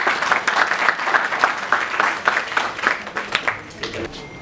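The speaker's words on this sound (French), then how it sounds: "Alors, sous vos applaudissements, s'il vous plaît" An audience at a poetry prize event applauds a speaker's introduction with clearly separate claps that fade gradually toward the end.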